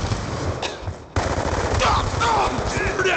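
Sustained automatic machine gun fire from the Black Ops 2 video game, a steady loud burst that briefly dips before resuming even heavier, with faint in-game voices mixed in.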